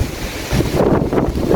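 Strong wind gusts across a garden net outdoors, a loud, close, buffeting roar with rushing swells through the short stretch, and no voices.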